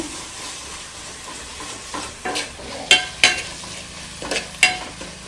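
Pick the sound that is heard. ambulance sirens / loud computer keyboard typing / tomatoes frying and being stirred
tomatoes frying and being stirred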